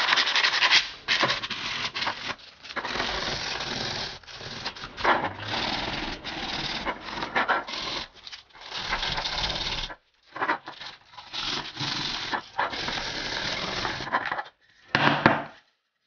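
Sandpaper is rubbed over a repaired, solidified plastic part, giving a close, scratchy rasping in repeated strokes with short pauses, over about sixteen seconds and with no talking.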